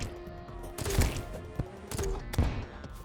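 Explosions from a grenade launcher in the video game Terraria, with a few muffled booms and thumps in quick succession over a steady game background, moderately loud.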